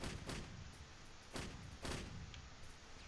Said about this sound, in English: The artillery is doing as much work as it can